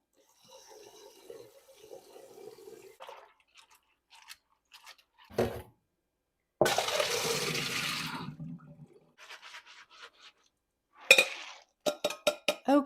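Pumpkin seeds are rinsed with water in a bowl, heard as a few seconds of gushing, splashing water among quiet scattered clicks and rattles of seeds being handled.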